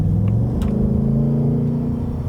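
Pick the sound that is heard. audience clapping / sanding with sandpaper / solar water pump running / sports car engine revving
sports car engine revving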